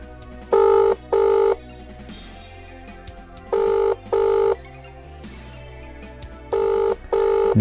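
A telephone ringing tone on a call, heard as three pairs of double rings spaced about three seconds apart, loud and clear with faint background noise between them.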